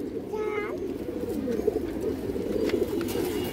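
Pigeons cooing in a loft, including a pair of snake-eyed birds, with soft rolling coos repeating steadily at close range over a constant murmur of background noise.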